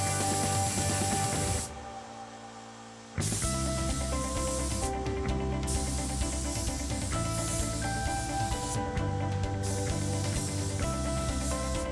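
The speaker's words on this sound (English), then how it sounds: "I spray my paint" Loud hissing of a paint spray gun applying a third coat in home autobody repair, long continuous bursts, stopping briefly once, over a steady background with tonal hum.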